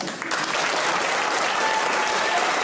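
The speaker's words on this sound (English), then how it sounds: "Stop clapping!" A studio audience at a comedy news quiz breaks into loud, continuous clapping that swells just after it begins and holds steady, with a faint voice or two under it.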